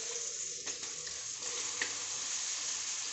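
Chicken liver hits hot, well-cooked masala in a pan, giving a steady, loud broadband sizzle with a few faint clinks and stirring scrapes throughout, no voices.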